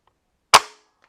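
An Umarex Synergis .177 fixed-barrel multi-shot under-lever air rifle fires a single shot: one sharp, loud, close crack that fades quickly, with quiet before and after.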